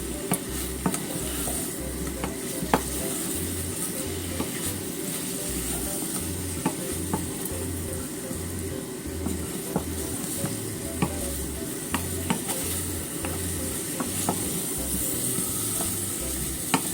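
Candied sweet potatoes (daigaku imo) are stirred in a pan to coat them in syrup. A constant sizzle runs throughout under repeated scraping strokes of the utensil against the pan.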